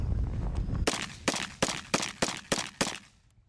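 A rapid volley of seven sharp SKS rifle shots fired at a zombie target outdoors, evenly spaced and loud, each crack trailing off briefly, following a moment of low background rumble.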